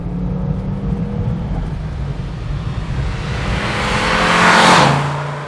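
A 1985 Audi Sport Quattro S1 turbocharged engine drones steadily under load, then swells louder as it accelerates and revs higher near the end, heard close from inside the car.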